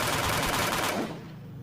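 Rapid automatic gunfire in the PUBG Mobile video game crackles in a dense, loud burst for about a second, then breaks off abruptly into quieter background noise.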